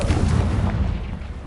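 A Confringo fire spell blast in Hogwarts Legacy on PS5 gives a loud, booming explosive burst with rumbling low-end that fills a brief moment.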